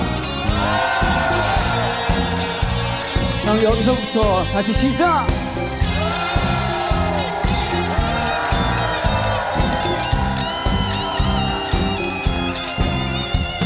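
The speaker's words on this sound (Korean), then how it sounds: "함성 시작!" Concert crowd at a live Korean pop ballad show shouting and cheering loudly over a steady pounding musical beat, with a singer talking over the din.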